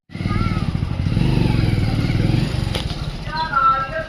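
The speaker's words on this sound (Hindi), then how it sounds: "बाइक आ रही है।" A bike-taxi motorcycle pulls up near a Delhi metro station, its engine rumbling steadily and fairly loud for several seconds, with a brief clatter near the end and people talking over it.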